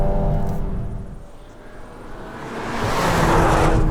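Volkswagen Golf R 8.5 on the move, a loud close road roar with engine drone that dips in the middle and then swells into a rushing, broadband whoosh of speed, with no voices.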